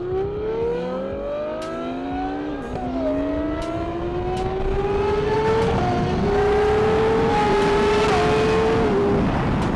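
A Ferrari 812 Superfast GTS V12 revs hard and climbs through the gears, its loud, sustained engine note rising in pitch with brief dips at each shift, close by and alone.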